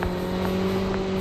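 A vehicle's engine drones steadily and fairly loud nearby in a squad battle video game, a constant hum with no break and no voices.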